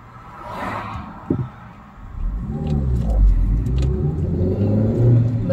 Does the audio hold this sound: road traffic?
yes